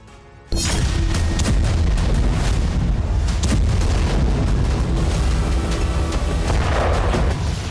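A Russian missile strike hits a residential area in Kryvyi Rih, Ukraine, as a sudden loud boom erupts and turns into a sustained, heavy roaring rumble with crackling debris that continues for several seconds.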